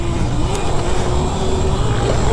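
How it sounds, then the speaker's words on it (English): An Aipas S1 60-volt electric mini dirt bike rips through sand, its motor giving a loud, close, steady whine that climbs slightly in pitch over a rough rushing rumble. "to have a 60 volt battery and a little mini bike that rips this good in sand"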